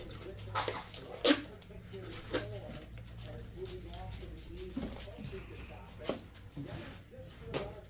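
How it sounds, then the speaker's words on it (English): Dogs barking indoors in a home, several sharp, scattered barks and whimpers at moderate distance, mixed with household sounds while a person talks. "sorry about that, the dogs"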